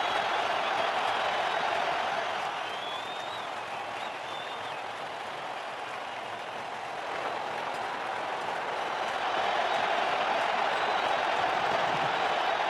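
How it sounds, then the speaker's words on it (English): Loud, sustained crowd cheering and applause in a cricket video game after a six is struck, a dense roar that dips slightly midway and swells again. "Oh, what a shot. Crowd's gone mad."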